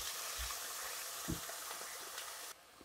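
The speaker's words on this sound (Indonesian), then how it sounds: "Dari kita tumis dulu ya dagingnya" Meat sautés in a pan as the base for Korean kimchi soup, a soft steady sizzle with a couple of low stirring bumps, fairly faint, cutting off abruptly near the end.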